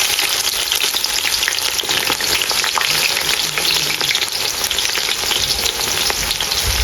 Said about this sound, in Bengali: এখন পেঁয়াজগুলো ভালো করে ভেজে দেবো।